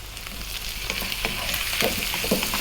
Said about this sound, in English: we're going to go for about another 4 minutes or so, frying this around